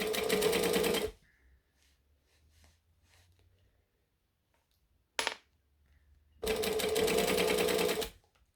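A sewing machine stitches vinyl in two loud, fast bursts, one at the start and one near the end. A short clack falls between them, with quiet handling noise in the gaps.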